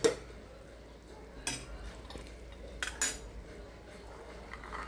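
A utensil scrapes and clinks against a metal pot while onion-coconut masala paste is stirred for a white pea and potato curry, with a few sharp knocks against a quiet background.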